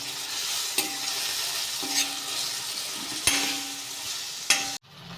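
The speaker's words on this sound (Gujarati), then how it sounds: "એટલે હલાવીને મિક્સ કરી લઈશું।" A spoon stirs turmeric, red chilli powder and salt into tomatoes sizzling in a pan for Kathiyawadi sev tameta sabji, a steady loud fry with several sharp scrapes and clinks against the pan, no voices.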